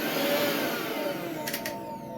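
A Flipkart SmartBuy mixer grinder runs after its coupler has been replaced, giving a steady, loud motor whine throughout with a brief higher rattle near the end.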